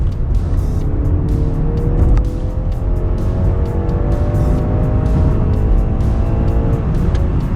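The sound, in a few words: sedan car engine accelerating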